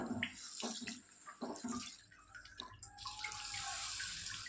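Sorghum grains are washed by hand in water, with quiet splashing and sloshing in bursts, then a steadier stream of running water toward the end.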